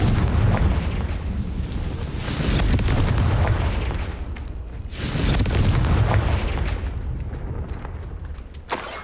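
Confringo blasting spell explosions in the video game Hogwarts Legacy, heavy rumbling booms in two or three big surges that roll on continuously, loud and close with no talk.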